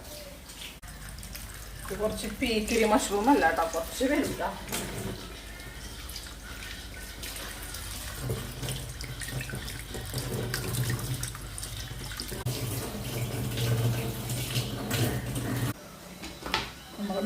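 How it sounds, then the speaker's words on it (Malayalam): Tap water runs steadily over mushrooms being washed in a kitchen sink, with a continuous splashing stream that swells and dips. Someone talks over it throughout. "ജസ്റ്റ് വെള്ളത്തിലൊന്നും ഇങ്ങനെ കഴുകിയെടുക്കാൻ മതിയേക്കാം."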